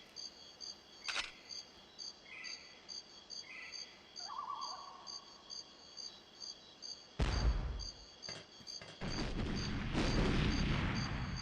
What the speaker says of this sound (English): But I can use the grenade launcher.